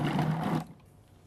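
A Cuisinart Elite Collection 14-cup food processor, model FP-14DC, runs loud and steady while kneading dough, then is shut off and its motor quickly winds down to quiet.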